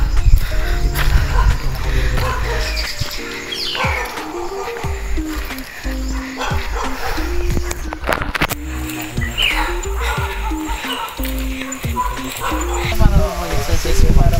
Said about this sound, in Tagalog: Tapos may aso pa sa unahan. Madadaanan po kaming aso.